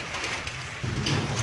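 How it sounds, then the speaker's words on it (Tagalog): Volcanic stones pelting down during the Taal volcano eruption, a close, dense patter of small impacts that grows heavier and louder midway through the short burst. "Bato po yung umuulan."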